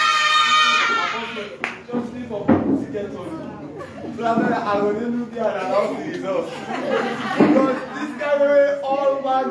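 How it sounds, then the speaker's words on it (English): Children at a Vacation Bible School graduation sing a cheerful action song, with bursts of hand clapping on the beat under the singing voices and some light laughter. "If you're happy and you know it, clap your hands."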